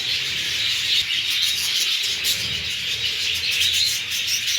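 Parrots perched up high chirp and tweet amid a dense, steady hiss of outdoor ambience, the calls blending into a continuous bright wash with no voices.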